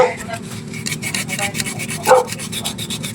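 Sandpaper rubbing on the rear bushing of an Asahi 16-inch desk fan, a close, steady scratchy rasp in short repeated strokes, with one brief louder knock partway through.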